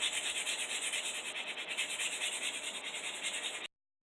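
Rhythmic back-and-forth rubbing of sandpaper on a handmade knife handle, close and steady strokes for several seconds before stopping abruptly.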